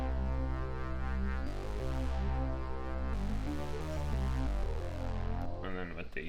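A VCO mono synth bass line for a Detroit-style beat plays loud and harsh without EQ, thick buzzy sustained notes shifting pitch every second or two, dense and continuous, with no voice over it.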